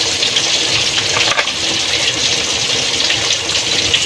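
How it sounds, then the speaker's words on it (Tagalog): Broth poured from a thermos into a pan of sautéed vegetables, a steady close splashing gush of liquid that runs evenly for several seconds with no voices. "nilagyan po natin ng konting sabaw yan, oh, galing sa thermos"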